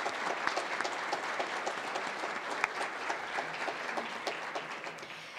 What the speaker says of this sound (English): Please join me in a warm round of applause for all of them.